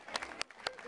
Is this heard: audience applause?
yes